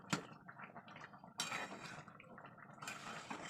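A ladle scraping and clattering in a pot of jackfruit curry with yogurt, ghee and garam masala, with a few close metallic knocks and softer wet stirring between them, quiet and without talk.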